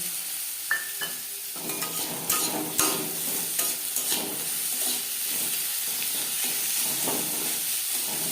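Carrots and capsicum fry in a pan over medium heat, giving a steady close sizzle with scattered stirring scrapes and a few sharper clinks early on.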